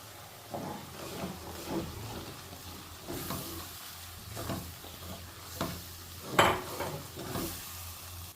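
Ground masala paste fries in a pan for paneer curry, giving a steady close sizzle broken by repeated stirring scrapes and an occasional clink of a spoon against the pan.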